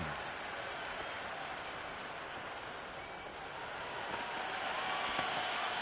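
Simulated cricket crowd in the Ashes in the video game Cricket 26, a distant, even wash of applause and crowd noise rolling on steadily at modest level without pause.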